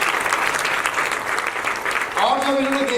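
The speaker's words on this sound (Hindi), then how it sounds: "जोरदार तालियां प्लीज इनके लिए।" Applause fills a hall at a Hindi film trailer launch, steady crowd clapping throughout with a voice starting to speak over it toward the end.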